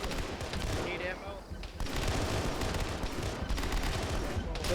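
Dense, sustained Halo gunfire from a multiplayer match against zombies, a steady rattle of automatic shots close up, with players talking over it throughout.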